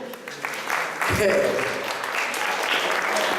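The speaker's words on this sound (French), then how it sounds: "Et si c'est ça, tout le monde peut m'applaudir." Applause from a party crowd at a close-up magic show during a card trick, a steady wash of clapping that swells midway, with a magician speaking French over it.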